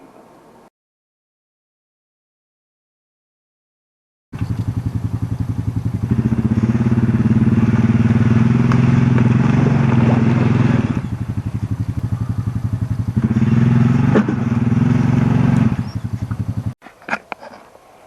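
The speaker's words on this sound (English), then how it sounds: "the trick here is to get the quad turned around" A quad ATV engine idles, then revs to a loud, steady drone as the machine is turned around while hitched to a log trailer, dipping briefly midway and cutting off near the end.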